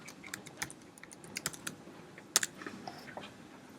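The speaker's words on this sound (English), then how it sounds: "For example, I'll type in access." Keystrokes on a computer keyboard while searching an asset management database, a quiet scattering of irregular clicks with a brief quick burst near the middle, no voices.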